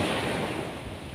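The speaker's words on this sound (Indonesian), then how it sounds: "Gempuran ombaknya nih." Ocean waves crashing at Batu Putih beach in Indonesia in the morning, a dense steady roar of surf with wind rumble, loud and close.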